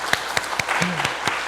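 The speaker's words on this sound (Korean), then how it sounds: "그렇게 박수 한번 할까요?" A church congregation at a Friday prayer meeting claps their hands, a sparse, fairly steady series of separate claps at close range with a faint voice in the background.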